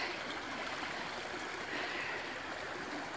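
Creek water flowing in a steady, even rush, close and unbroken throughout.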